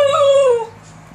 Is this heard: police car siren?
no